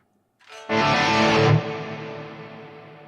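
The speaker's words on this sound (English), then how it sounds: "So we've got some reverb here." A single distorted guitar chord through a Neural DSP Mesa Boogie Mark IIC+ amp plugin rings out loudly, then cuts to a lingering reverb tail that slowly decays.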